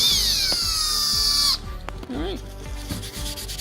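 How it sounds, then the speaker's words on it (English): A power drill bores into drywall to mount Ikea shelves: a steady high motor whine that cuts off abruptly, followed by softer handling rustles and scrapes up close. "And I'm just gonna line it up, drill it."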